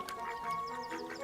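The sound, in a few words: weeding ducks at garden ponds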